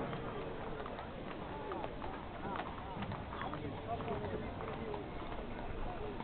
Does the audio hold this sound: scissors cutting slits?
no